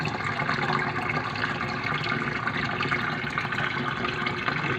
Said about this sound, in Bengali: এবারে পুরোটা পানি দিয়ে বসলাম